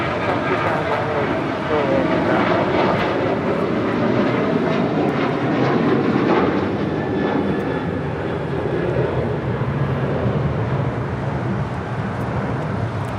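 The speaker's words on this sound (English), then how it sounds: "This is United Airlines 1295 departing to Lihue on a 737-800." A United Airlines Boeing 737-800 departs Los Angeles International Airport for Lihue, its jet engines producing a loud, continuous roar that builds and fades gradually, with a voice speaking intermittently over it.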